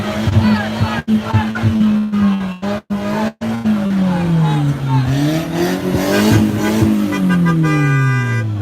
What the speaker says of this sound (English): So this right here is the main revving engine.